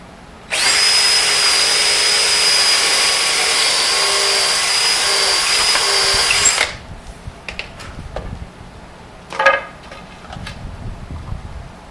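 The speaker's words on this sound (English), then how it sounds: "and then I drill" A power drill bores a hole into wood while a display easel is being built, making a loud, steady high whine for about six seconds. It then stops, followed by faint handling clatter and a brief knock.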